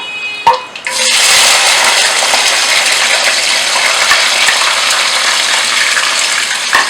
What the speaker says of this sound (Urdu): آئل ہمارا گرم ہو چکا ہے اور اب ہم اس میں ڈالیں گے پیاز